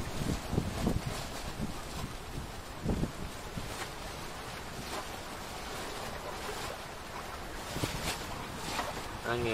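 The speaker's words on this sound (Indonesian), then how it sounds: "Angin tuh." Strong storm wind roars over open sea at a fishing platform at Tanjung Kait, with waves sloshing, a constant rushing noise with occasional gusts and splashes, fairly loud and close.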